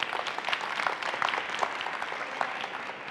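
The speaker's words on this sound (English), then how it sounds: "Give yourselves a huge round of applause." Steady crowd applause from a tech conference audience in Taiwan, many hands clapping at once in a dense, continuous patter that tapers slightly toward the end.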